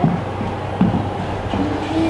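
A big train at the National Railway Museum in York rumbles along, a steady low mechanical drone with faint clanks and a brief metallic squeal, fairly close and uninterrupted.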